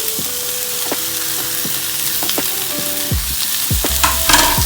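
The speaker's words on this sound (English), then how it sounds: "And we'll saute it again" Mixed vegetables and mushrooms for Pad Thai sauté in a hot pan, a loud, close, continuous sizzle with scraping stirs and occasional knocks of the utensil against the pan, no one speaking.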